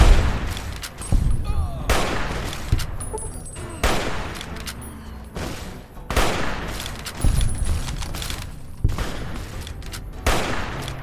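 Grenade explosions in the video game Fallout: New Vegas, a series of sharp booming blasts about every two seconds among scattered gunfire, loud and close.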